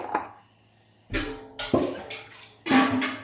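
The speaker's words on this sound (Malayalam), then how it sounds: "ഒരു കപ്പ് വെള്ളം ഇതിലേക്കൊഴിച്ച് ഒരു കുക്കറിലൊഴിച്ച്" Water is poured from a cup into a pressure cooker, first a brief trickle and then several louder splashing gushes, close and alone with no talking.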